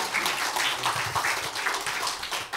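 Applause from a church congregation at a New Year's Eve service, a dense, steady wash of many hands clapping close by, holding at an even level for a few seconds.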